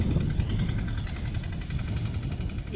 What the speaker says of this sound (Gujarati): આવે છે ટ્રેક્ટર ધીમે ધીમે